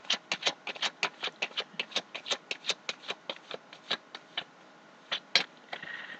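Tarot cards are shuffled by hand in quick, crisp clicking bursts at an even rhythm, close and fairly quiet, slowing to a few scattered snaps at the end.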